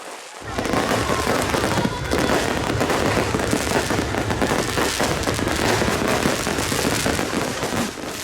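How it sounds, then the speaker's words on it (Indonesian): A New Year's Eve fireworks display in Parepare, dense crackling bursts and pops going off continuously at close range with a festive crowd behind. "suasana pesta kembang api berlangsung meriah"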